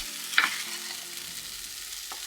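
A spoon stirs butternut squash in a pot with a soft, steady sizzle underneath and a couple of sharp scraping clinks at the start and end, close and alone without talk.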